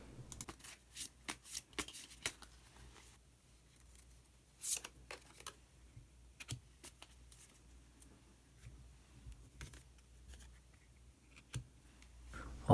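Soft papery shuffles, flicks and taps of a tarot card being drawn from a deck, close and quiet, in scattered irregular bursts without talk.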